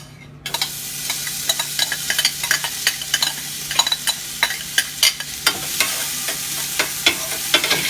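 Onions hit a very hot oiled pan and fry with a loud, close sizzle, broken by rapid scraping and stirring taps that repeat throughout.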